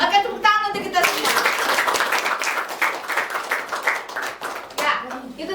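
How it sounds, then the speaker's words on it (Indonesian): A classroom group breaks into applause after a short spoken prompt, a dense burst of many hands clapping that holds for several seconds and thins toward the end, with a voice briefly heard at the start and near the close. "Oke, tepuk tangan untuk kita semua."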